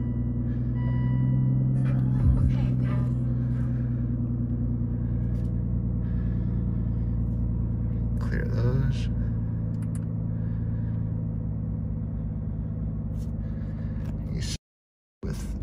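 A 2011 Aston Martin Rapide idles after startup, its engine holding a steady, close, low-pitched drone with a faint higher whine. The note stays even throughout, and the sound cuts out abruptly for a moment near the end.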